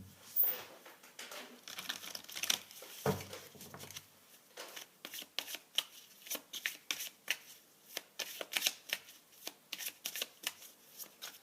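Angel oracle cards being shuffled by hand, a rapid series of crisp riffling flicks and slaps in uneven bursts, close and clear with no talking over them.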